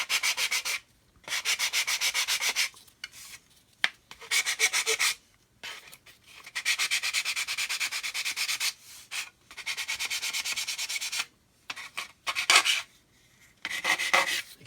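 Close, loud rasping strokes of sandpaper on plastic model kit parts, a Buff model build, coming in repeated long passes separated by brief pauses, with no talk.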